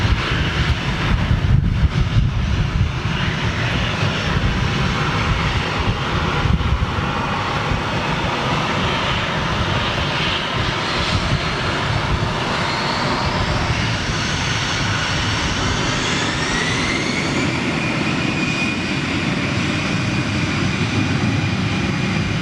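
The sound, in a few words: Airbus A330 jet taxiing out at Manchester Airport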